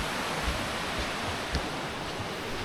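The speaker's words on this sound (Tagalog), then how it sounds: "Ayan yung falls." A waterfall in Taytay pours in a dense, steady roar of falling water, close and loud, unchanging across the moment with no voices.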